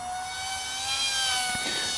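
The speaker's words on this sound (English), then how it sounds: "And then I have to just accept this noisy plane." A small Esky Eyas RC plane's rear-mounted propeller motor whines steadily at full throttle, a high, thin buzz with a slight rise in pitch, alone and fairly close.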